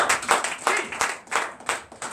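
A church congregation claps in acclamation of Jesus during a Sunday worship service, rhythmic bursts of hand claps recurring roughly every third of a second, moderately loud and close.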